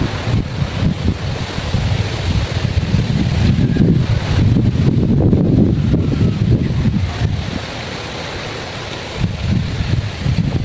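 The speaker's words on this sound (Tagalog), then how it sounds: "It's windy here, everyone." Strong wind gusting outdoors in a rural Philippine province, buffeting the microphone in loud rumbling waves that swell and ease, with a lull near the end before picking up again.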